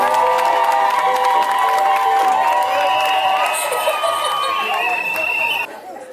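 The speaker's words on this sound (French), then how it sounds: "Est-ce qu'on peut applaudir cette magnifique sortie, je vous en prie?" A wedding crowd at a traditional Gabonese ceremony cheers and claps, loud and sustained, with shouts and tonal voices ringing over the clapping before it drops away near the end.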